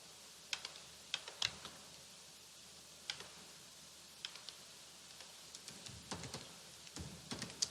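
Fingers type on a computer keyboard while entering text into a file, producing scattered bursts of quick, light clicking keystrokes close to the microphone, separated by brief pauses and with no speech.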